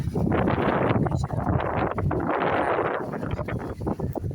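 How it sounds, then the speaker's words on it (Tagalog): Steady, loud wind buffeting the microphone with gusty rumbles throughout, no talking. "Guys, lalong mahangin dito sa ibabaw."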